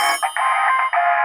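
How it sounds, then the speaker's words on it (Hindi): An electronic phone ringtone chirps in a steady repeating pattern, loud and close, with brief gaps between bursts and no voices over it. "कब से फोन बज रहा है, जाकर उठा लो ना प्लीज।"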